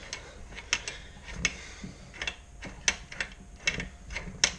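A wrench tightens a nut by hand on an Aprilia SR 50 R engine during crankshaft refitting, giving sharp metallic ratcheting clicks in irregular bursts close by, with no talking.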